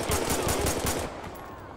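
A rapid burst of gunfire in an LSPDFR police shootout in a video game, several loud close shots in quick succession that fade out within two seconds.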